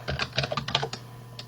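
Quick burst of keystrokes on a computer keyboard, about eight clicks tapped in a fast uneven cluster and then one lone key press, close and soft over a low steady hum.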